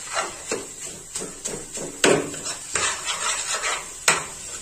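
Potato halwa is fried in ghee in a kadhai while a metal spoon stirs and scrapes it, giving repeated sharp clanks against the pan at an uneven rhythm over a soft frying hiss, close and clear.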